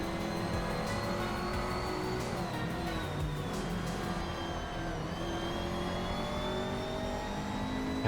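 Racing car engines in a video game race whine continuously as a large pack of cars battles closely, with layered engine tones rising and shifting in pitch and no pauses.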